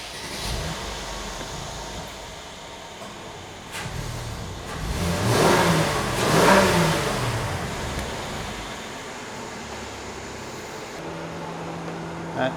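A Mercedes engine revs up, swelling loud around the middle with a rising and falling mechanical roar before settling back to a steady idle; no talking.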